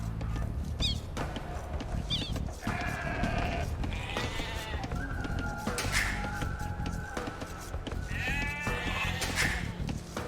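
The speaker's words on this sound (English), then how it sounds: "villagers can herd sheep or hunt deer for food." Sheep in the Age of Empires II: Definitive Edition strategy game bleat repeatedly in short wavering cries over a busy background of game sounds. Moderately loud, with no talk.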